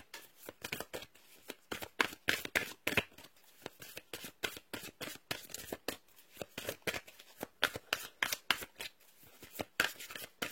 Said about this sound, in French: Je ramène les cartes parce que c'est moins pratique.